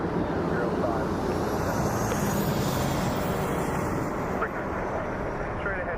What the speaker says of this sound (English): 737-700 taking off.